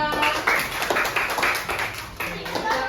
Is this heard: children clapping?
yes